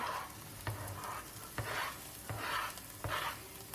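Onion frying in a pan, a steady sizzle broken by four or five rhythmic stirring scrapes about a second apart, close and moderately quiet, with no voices.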